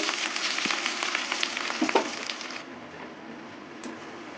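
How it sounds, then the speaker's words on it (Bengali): Onions frying in hot oil for papaya and potato ghugni, a steady broadband sizzle with a few small crackles and pops, louder at first and then settling into a quieter, even hiss. "পেঁয়াজটা একটু ভেজে নেব"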